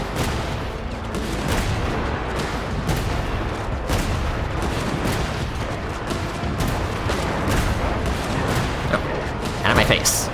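Cannon fire in the video game Genshin Impact: a dense, loud barrage of booming blasts and rapid explosive cracks that rolls on continuously, with a burst of sharper bangs near the end.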